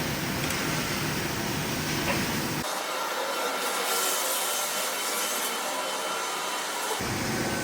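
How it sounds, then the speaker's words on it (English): A Brother TC 32B machine loudly running with a broad whirring roar, then switching off so the low hum drops away while a hissing wind-down continues before the full noise returns near the end. "switch off the machine there. You see it go down."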